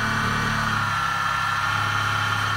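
A high-torque 900 W servo motor spins at 2800 RPM on a small mill with a fly cutter set up over 6061 aluminum, giving a steady, loud, even hum and whine.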